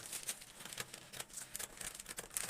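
Fabric for a dress sleeve pattern being cut out, a steady run of crisp crinkling and rustling snips close by, with no voices.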